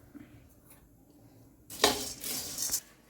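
A metal frying pan is set down on a kitchen stove while making chutney powder. After a quiet start, a short burst of clanking and scraping metal follows, close and fairly clear.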